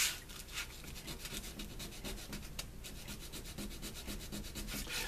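Sandpaper rubs back and forth over a leather knife sheath on a workbench, a close, quiet, rhythmic scratching in steady rapid strokes with no talking.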